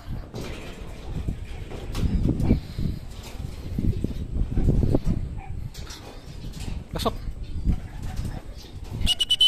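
Racing pigeons back from a 213 km derby race coo in low, soft murmuring bursts, with a few wing flaps and sharp knocks at close range and no clear talk.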